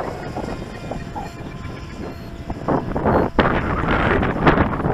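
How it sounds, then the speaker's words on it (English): Strong wind buffets the microphone in gusty, rumbling bursts, with the motor of a radio-controlled jet plane droning faintly underneath. "It is a little bit windy today"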